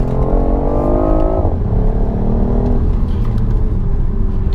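A 2018 BMW i8 Coupe engine roars loudly from inside the cabin in sport mode, amplified interior engine sound revving up steadily, then the pitch drops as it shifts and pulls again, with constant road rumble.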